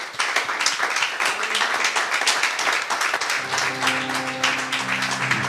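Church congregation clapping and cheering together in a dense, steady burst of applause, with a sustained tone rising beneath the clapping toward the end.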